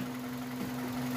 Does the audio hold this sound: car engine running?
yes